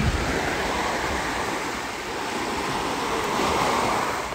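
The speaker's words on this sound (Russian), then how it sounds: "Волна, волна, волна." Sea waves break and wash steadily onto a resort beach shore, a loud continuous roar of surf with no talking.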